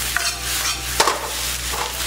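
Egg fried rice with shredded pork is tossed and stirred in a hot wok, giving a steady sizzle with scraping spatula strokes and one sharp clack of metal near the middle.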